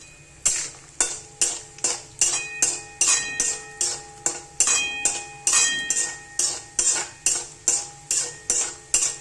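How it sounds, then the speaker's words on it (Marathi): Dry fruits roasting in oil in a pan, a metal spatula scraping and knocking against the pan in a steady rhythm of about two strokes per second, with a faint sizzle underneath, close and clear. "ब्राऊन कलर होईपर्यंत भाजायचे ड्रायफ्रूट"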